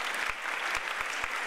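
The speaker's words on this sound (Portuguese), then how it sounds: "palmas" Brief burst of audience applause at a university welcome reception after a chamber orchestra performance, dense clapping with a few sharper claps standing out.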